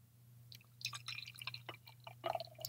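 Huma Lupa Licious IPA beer is poured from a can into a glass: a quiet, close pour of gurgles and dripping splashes that builds slightly toward the end.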